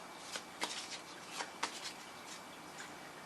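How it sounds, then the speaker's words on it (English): Soul's Journey oracle cards being shuffled and pulled from the deck, a soft, close papery riffle with several light flicks and slaps, quiet and alone. "So let me pull 2 Soul's Journey cards for you."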